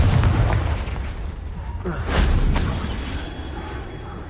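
Expelliarmus and Confringo spell blasts in Hogwarts Legacy, the video game: two sharp bursting booms land in quick succession around the middle over a rumbling game backdrop, and a voice calls out between them.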